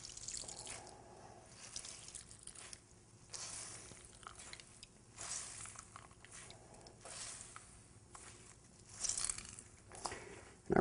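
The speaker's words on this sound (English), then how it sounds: "you can see it's, without even squeezing it, the water's dripping out already" Water drips from a squeezed bundle of kitchen towel holding grated cucumber for tzatziki, giving soft, irregular patters and small splashes close up over a quiet kitchen background.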